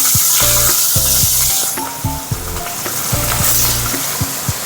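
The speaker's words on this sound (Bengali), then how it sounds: "তেলটা গরম হয়ে গেছে, এবার মাছটা দিয়ে ভেজে নেব" Fish fries in hot oil with a loud, close, continuous sizzle and spitting crackle, interrupted by rhythmic scraping clatter of a utensil stirring in the pan.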